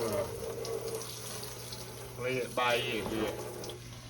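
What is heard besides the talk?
cold tap water running into pancake mix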